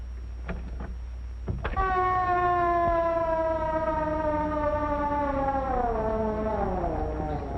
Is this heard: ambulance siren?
yes